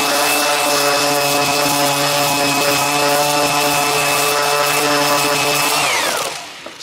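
A cheap Harbor Freight sander fitted with 60-grit paper strips stain from an old roadside table, giving a loud, steady motor whine that spins down and stops near the end.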